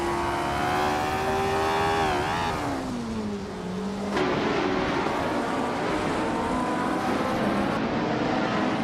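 Vintage Formula One cars racing at Batangas Circuit, their high-pitched engines whining loudly and continuously, with pitch sweeps as cars pass, shift and accelerate, layered over one another.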